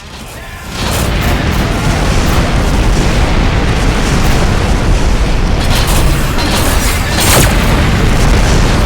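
Missile explosions in the space combat game Rebel Galaxy make a loud, sustained booming roar that bursts in suddenly after a brief quiet start and rumbles on heavily, with a few sharper blasts layered on top.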